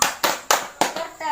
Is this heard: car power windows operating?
no